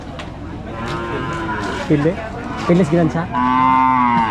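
A carabao, or water buffalo, at a livestock stockyard moos several times in long, low, drawn-out calls that grow louder toward the end, over the steady murmur of the crowded yard, with a person speaking briefly nearby.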